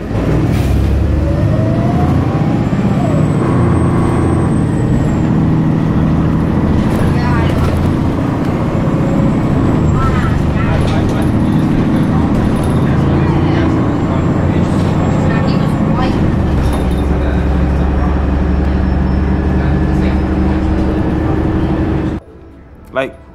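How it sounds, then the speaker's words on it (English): A Glasgow bus on route 15 rumbles loudly and continuously up close, its deep engine drone steady throughout, with faint traffic around it, before the sound cuts off near the end. "Waking up to the sound of these buses was just an experience."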